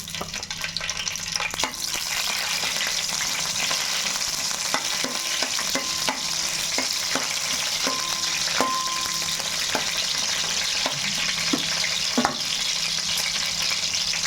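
Green chillies frying in oil for a chicken vadiyalu curry, a continuous close sizzle with regular spoon taps and scrapes against the pan and a faint low hum beneath.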